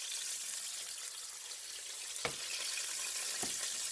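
Salmon skin crisping in a hot pan, a steady broadband sizzle with a couple of brief sharp pops or spatters near the end, no talk.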